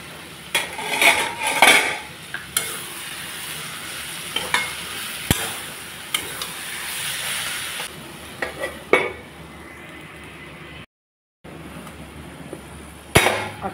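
A cooking pot is uncovered and the food inside stirred, with metallic clanks of lid and utensils against the pot over a low sizzle, then a brief silence and a final sharp knock.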